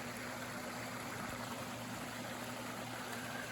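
A steady low hum of a water garden pump running beneath a soft, continuous wash of flowing stream water, faint and unchanging throughout.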